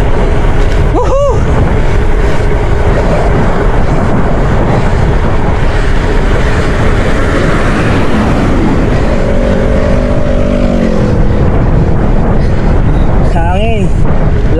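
Strong wind roars and buffets the microphone on a moving motorcycle throughout, with the engine droning beneath and brief whoops and shouts in the background.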